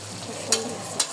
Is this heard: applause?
no